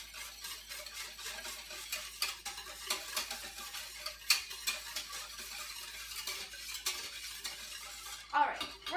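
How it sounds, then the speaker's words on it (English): A mixture of brown sugar and other ingredients simmering in a pot over medium heat, with soft sizzling and bubbling under frequent scraping and clinking of a spoon against the pot, close by and busy. "bring it to a simmer over medium heat"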